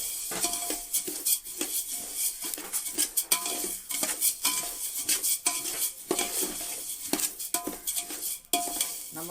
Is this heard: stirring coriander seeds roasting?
yes